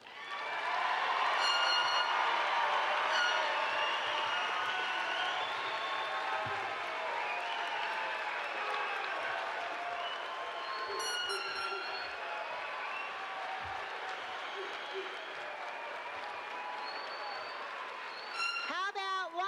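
Audience applause for Bachelor of Science in Nursing graduates at the KU School of Nursing hooding and recognition ceremony, a sustained dense wash of clapping filling the hall, steady throughout with faint voices mixed in.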